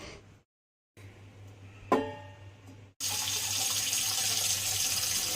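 Water from a kitchen tap runs into a pot, about two cups for boiling, after a few faint clinks; the stream gushes steadily and fairly close for the last couple of seconds.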